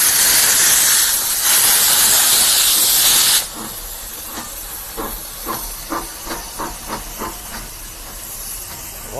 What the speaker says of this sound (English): Walt Disney World Railroad.